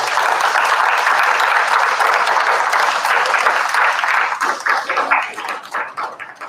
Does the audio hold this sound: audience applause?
yes